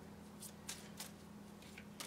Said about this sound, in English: Let's get it right and shuffle.